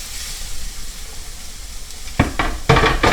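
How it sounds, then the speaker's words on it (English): Vegetables tipped into a pan of cooking onions, a low background sizzle that jumps into loud crackling bursts as they hit the hot surface and get stirred, close up and without speech. "Okay, I'm going to put all the vegetables in there."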